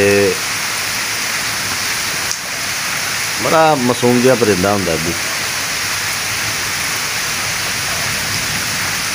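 Steady, dense morning rain hisses throughout in a village in Punjab, Pakistan, near and even, while someone speaks briefly over it.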